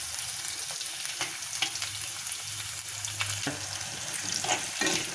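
Green chilies frying in hot oil give a steady, close sizzle with occasional scrapes and stirring clicks, continuing evenly throughout with no talking.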